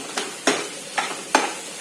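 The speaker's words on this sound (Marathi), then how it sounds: "पातळ कांदा मी टाकलाय कढईत. आपण कांदा भाजून घेऊयात आधी." Thinly sliced onion fries in a kadhai, with a steady sizzle broken by four stirring scrapes at regular intervals, close and clear with no talk.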